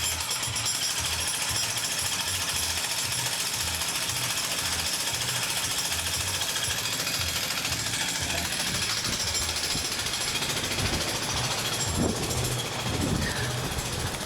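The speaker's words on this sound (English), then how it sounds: "Got the jackhammer, man." A jackhammer breaking pavement in a Baltimore driveway pounds steadily and loudly nearby, its rapid repetitive hammering continuous throughout, with some traffic-like rumble in the background.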